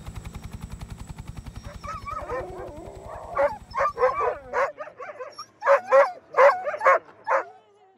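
Sled dogs in Greenland whimper and yip, then break into a series of close, loud barks, with a helicopter's steady low thrum beating underneath at first before fading out.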